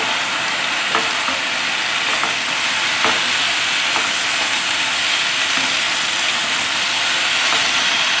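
Steak and garlic sizzle steadily in a hot pan while being stirred, a loud continuous hiss and crackle with soft scraping knocks at intervals.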